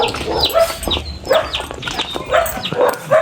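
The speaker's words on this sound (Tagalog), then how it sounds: "Ayan ang aso." A dog barks in a few short, sharp bursts at close range in a Filipino yard, with chickens and birds faintly in the background.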